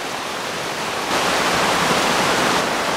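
A mountain creek in Oregon's Central Cascades rushes close by as a dense, steady wash of water noise, growing louder after a second with no voices.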